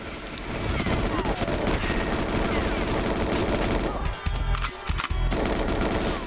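Frenzied gunfire in a GoldenEye video game firefight: a dense, nonstop rattle of automatic shots and explosions filling the whole stretch, with brief dips near the end.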